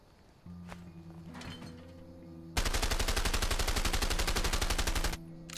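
Gunfire in the A Way Out video game: after a few scattered thuds over a steady hum, a loud, rapid automatic burst rattles for about two and a half seconds, then cuts off abruptly.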